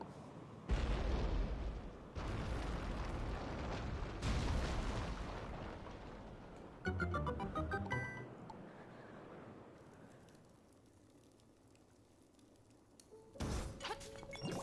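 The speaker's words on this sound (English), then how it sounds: "I need to break that damn pillar" A pillar breaks apart in The Legend of Zelda: Link's Awakening, with several loud booming crashes and rumbling bursts, then a chiming game tone and quieter stretches before one more sharp impact.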